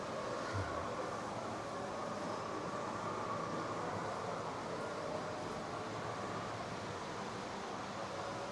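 An N gauge model train runs on a large European-style layout modelled on German, Austrian and Swiss railways, giving a steady, continuous rolling rumble at moderate level with no pauses.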